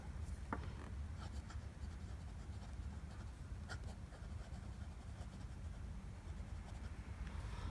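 An Aurora Talentum fountain pen with a wet medium nib and Lamy ink writes on smooth Clairefontaine paper, giving a faint, steady scratch of strokes with a few sharper ticks and no talking.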